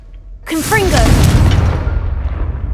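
A Confringo blasting spell detonates in the Hogwarts Legacy video game, one sudden loud boom with a bright crackling burst that rolls into a long rumbling decay, alone without talk.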